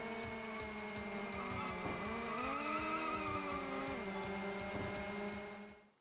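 Racing game cars played through an emulator on a modded Wii: steady engine drones with rising and falling pitch sweeps and squealing tire skids, loud and continuous, fading out at the end.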